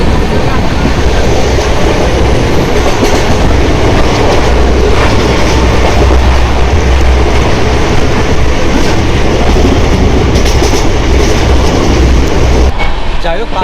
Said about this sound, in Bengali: মারাত্মক স্পিডে কিন্তু ট্রেন ছুটছে